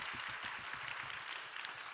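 A church young-adults gathering gives a faint, distant round of applause after a speaker's introduction, a soft even patter throughout.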